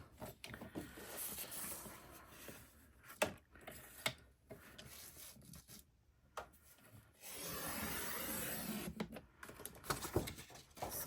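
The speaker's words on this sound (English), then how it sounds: "I'm going to use this trimmer because this is the one that I prefer to use." A paper trimmer slices craft paper in a few quiet, close scraping strokes, with short rasping slides and one longer, steadier cut partway through, and soft handling noises in between.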